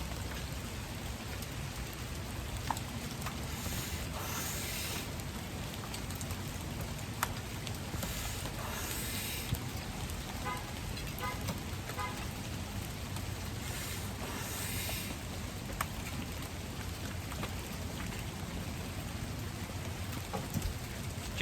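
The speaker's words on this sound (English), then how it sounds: "The rain is kind of calming down slightly over what it was when I first walked out here." Steady rain pours down outdoors in a broadband hiss of drops striking surfaces, with occasional louder individual splats and a low rumbling undertone, continuous and fairly close throughout.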